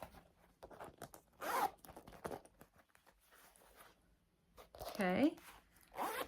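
A purse's zipper pocket is opened and closed in several quick, sharp, close rasping pulls with pauses between them, and a voice speaks briefly.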